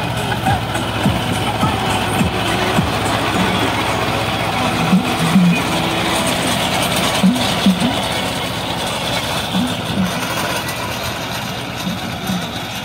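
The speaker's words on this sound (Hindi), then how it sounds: "ट्रैक्टर कितनी अच्छी तरीके से चल रहा है, बिल्कुल लोड फ्री चल रहा" Mahindra Jivo 305 DI mini tractor engine running with no load, a steady low diesel chug that continues evenly and fairly close, with no talk over it.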